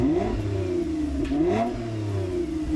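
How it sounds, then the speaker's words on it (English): A Toyota Camry TRD V6 with a TRD catback exhaust revs loudly and close, its snarling note climbing and falling through a couple of throttle blips with a steady engine drone between them. "there's extra snarl from the TRD catback exhaust"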